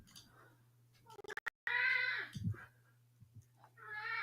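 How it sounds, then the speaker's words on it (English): A house cat meows several times up close, drawn-out rising and falling cries with a short burst of clicks before them, over a low steady hum in a quiet room. "My cat wants to say things"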